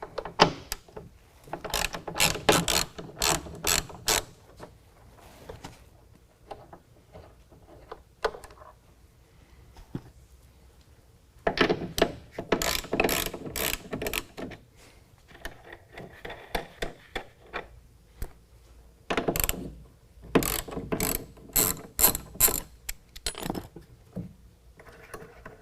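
A 13 mm ratchet clicks in quick repeated bursts, close and crisp, while a bolt and two nuts come off the tailgate handle of a 2019 Chevy GMC 1500, with quiet pauses between the runs.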